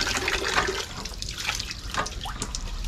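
Water is pumped by hand and runs for washing meat bought for dinuguan at a market in Magalang, Pampanga: a steady splashing gush with faint surging swells and no talk.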